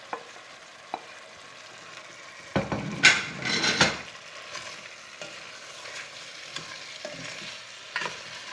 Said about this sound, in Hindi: दस मिनट के बाद हम टिंडों को भी अंदर ऐड करेंगे और इन्हें भी थोड़ी देर के लिए भून लेंगे।